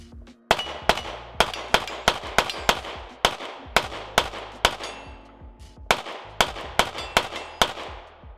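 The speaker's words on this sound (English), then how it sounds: "So far, nothing. So we will continue to shoot." Rost Martin RM1C pistol fired in a steady string of sharp, loud shots at close range, roughly fifteen reports spaced about half a second apart with a brief pause midway, no voices.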